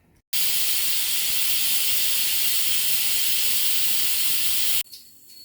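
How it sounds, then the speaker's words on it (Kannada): A pressure cooker cooking rice for mushroom biryani lets out a loud, steady, high hissing whistle of escaping steam for about four seconds, which then stops abruptly. "ಲಿಡ್ಡನ್ನು ಕ್ಲೋಸ್ ಮಾಡಿ 2 ವಿಷಲ್ ಹಾಕಿಸ್ಕೋಬೇಕು."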